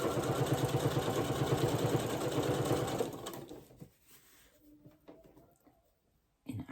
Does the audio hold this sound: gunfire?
no